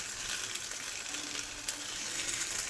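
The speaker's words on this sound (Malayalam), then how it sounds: "ചെറിയ ഫ്ലെയിമിൽ വെച്ച് കൊടുത്ത് ഫ്രൈ ചെയ്തെടുക്കാം." Red snapper (chembally) fish frying in a pan over a low flame gives a soft, steady sizzle with faint crackles throughout, fairly quiet and heard alone without talk.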